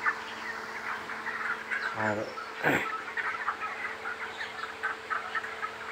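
Broiler chickens in a farm house call with a few clear chirping cries over a steady murmur of the flock, with one brief spoken word.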